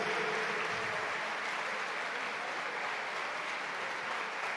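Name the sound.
congregation applauding in church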